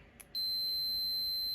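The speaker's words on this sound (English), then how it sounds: "So the meter's in buzzer mode" A multimeter set to continuity mode gives a steady, high electronic tone while testing a 230 V AC analog room thermostat, starting abruptly after a faint click and holding evenly to the end.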